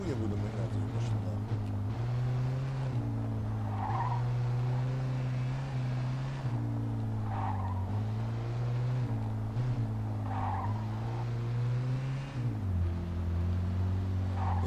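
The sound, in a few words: car driving and skidding in Mafia 2 video game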